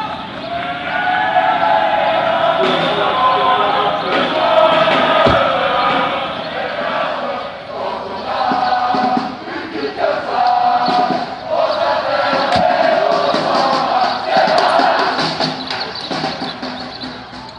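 A large crowd in France makes a dense, continuous roar of many voices, with shouting and chanting rising and falling across the whole stretch, loud and close.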